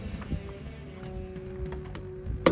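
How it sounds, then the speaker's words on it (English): A single sharp hammer tap on an RV friction hinge pin, which is being pounded back into place, lands near the end after a stretch of quiet, low workshop hum. "I'm gonna see if I can pound these back in there so they're not sticking out."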